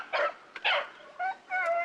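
Fauve de Bretagne hunting dogs bay and yelp on a rabbit hunt in the field, several sharp close barks in quick succession with short gaps, loud and clear.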